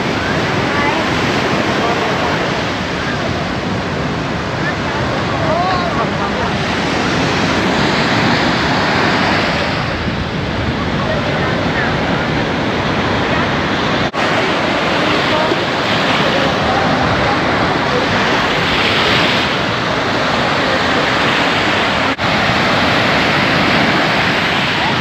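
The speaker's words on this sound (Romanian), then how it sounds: "Valuri serioase." Sea waves crash onto the shore at Cala Tarida, Ibiza, in a loud, continuous roar of surf, with heavy wind buffeting the microphone the whole time.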